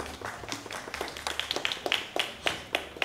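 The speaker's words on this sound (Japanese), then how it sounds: "もう一度皆さん大きな拍手をお願いします。" Scattered handclaps from a small audience at a music and dance show in a supermarket, Every Okanaka Tsudaka store, a modest, uneven patter of individual claps rather than a full ovation.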